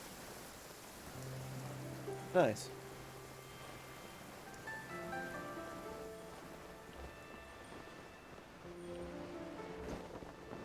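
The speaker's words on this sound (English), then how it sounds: "I love listening to the rain from the courtyard" Steady rain falling over a courtyard in the game Genshin Impact, a soft continuous patter with one brief louder sound early on and a single short spoken word.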